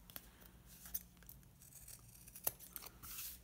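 Scissors trimming the uneven edges of printed paper, a few quiet, sharp snips spaced out over a faint background, close and with no talk.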